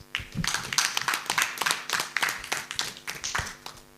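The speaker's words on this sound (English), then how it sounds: "we have a round of applause for all the presenters" An audience at a finance research competition event in Rwanda claps for the presenters, with sharp, distinct hand claps from a modest group, close and uneven in rhythm.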